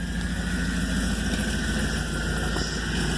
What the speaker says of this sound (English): I'll hit the throttle one more time from a different perspective.